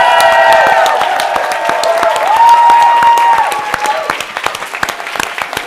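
An audience at a summit applauds and cheers the finalists: steady, loud clapping throughout, topped by whoops and shouted cheers that swell in the middle and thin toward the end.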